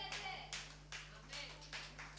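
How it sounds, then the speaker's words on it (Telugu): Several people clapping at a fasting prayer meeting, a few separate bursts of hand claps in an uneven rhythm, fairly faint over a steady low hum. "బాబు మీరు చప్పట్లు కొట్టకండి బాబు"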